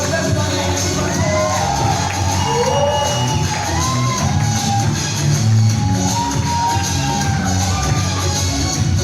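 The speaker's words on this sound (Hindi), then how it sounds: "लखनऊ टीम की तरफ से जबरदस्त तालियां।" The Lucknow team breaks into loud, sustained clapping mixed with crowd noise, shouts and whoops, forming a thick, continuous wall of sound from start to finish.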